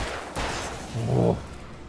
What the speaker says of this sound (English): Now the shooting starts.